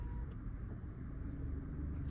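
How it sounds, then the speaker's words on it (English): 2024 BMW 520i engine starting up, a quiet, low, steady rumble that stays even and subdued across two seconds, with no voices. "Alright, so let's start up the car."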